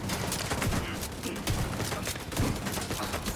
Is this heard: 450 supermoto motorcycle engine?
no